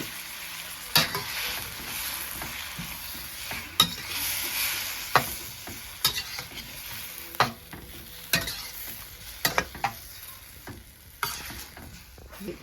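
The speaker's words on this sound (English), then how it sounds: "On medium heat, we're going to cook until the tomatoes have softened up" Tomatoes and egg stir-frying over medium heat in a Cantonese-style dish make a constant sizzle, punctuated by repeated sharp spatula knocks and scrapes against the pan at irregular intervals, growing busier toward the end.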